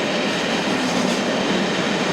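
A Caledonian Sleeper train pulling into a station, a loud, steady rumble of wheels on rails filling the whole moment.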